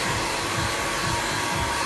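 A hair dryer blows steadily and close by while drying curly hair during a layered bob haircut, a constant whooshing hum with slight pulsing as the airflow moves.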